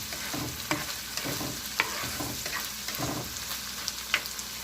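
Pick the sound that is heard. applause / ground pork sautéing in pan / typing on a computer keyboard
ground pork sautéing in pan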